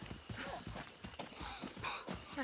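A penned horse in the video game Far Cry 6, its hooves clip-clopping in a quick uneven series of faint thuds, with a soft snort or whinny mixed in.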